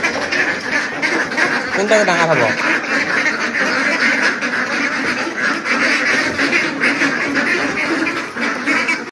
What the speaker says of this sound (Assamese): এতিয়া বলক হাঁহখিনি ধৰোঁ আৰু ৱেটখিনি জুখি চাওঁ